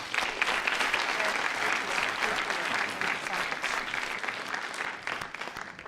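Summit audience at a World Bank youth event applauding the speakers, a dense, steady wash of many hands clapping that holds for several seconds and slowly tapers.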